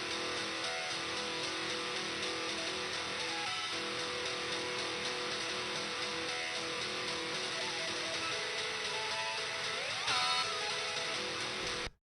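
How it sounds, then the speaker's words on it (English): A homemade synth patch pushed through guitar-amp distortion, a dense, buzzing, sustained wall of saturated tone that holds steady for about twelve seconds, with a brief rising sweep near the end before it cuts off. "I made a synth patch and then ran it through the guitar settings"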